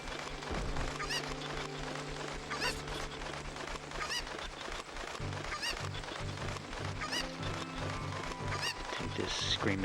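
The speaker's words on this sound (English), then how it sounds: "Take this screaming bird over here." A cucco bird in Zelda Ocarina of Time squawks repeatedly in honking bursts, mixed with game music and ambience throughout.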